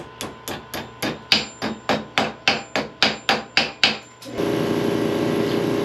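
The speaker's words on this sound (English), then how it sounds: "Put it right in the vise and then just hammer it over." A steady series of sharp metallic hammer blows on a metal bar held in a vise, about a dozen in even rhythm, close by, followed by a constant loud mechanical whir.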